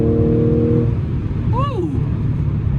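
A modified supercharged Audi S4 pulls hard in a short 2nd gear, a loud steady engine roar with a tonal whine that drops out briefly as a voice exclaims over it.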